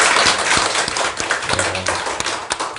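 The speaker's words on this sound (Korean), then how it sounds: "아까 박수 쳐주셨지만 다시 한번 박수 부탁합니다." Applause at a Won Buddhist sermon, a dense, steady wash of many hands clapping that carries on throughout, with occasional sharper individual claps standing out.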